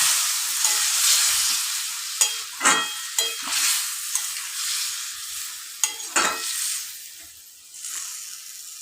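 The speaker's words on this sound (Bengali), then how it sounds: "সামান্য একটু মিষ্টি ধোয়া জল দিয়ে মশলাটা কষাবো।" Spice paste for a pumpkin and potato curry stir-fried with a splash of water in a pan, a continuous close sizzle broken by several sharp spatula scrapes, loud and steady with no voices.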